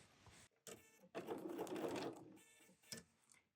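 A sewing machine stitches down a seam of a crazy patchwork heart in short bursts, with brief starts and stops and a louder steady run in the middle, close and moderately loud.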